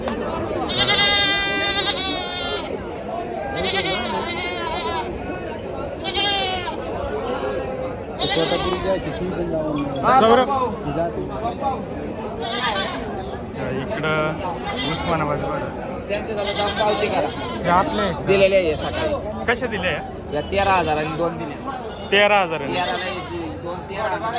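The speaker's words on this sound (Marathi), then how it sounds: "पाळीव शेळ्या बऱ्याच आहेत इथं" Goats bleat over and over amid a busy livestock market in Chakan, Maharashtra, with sheep and goats for sale. Loud, overlapping calls ring out close by under constant crowd chatter and talking voices.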